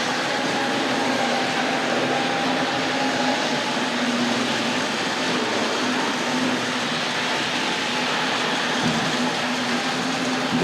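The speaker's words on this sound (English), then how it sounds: "Diesel locomotive definitely picking up a little pace." A Tri-ang model diesel locomotive runs steadily along a model railway track, giving a continuous, even rolling hum with a faint high whine that holds for the whole stretch and carries no speech.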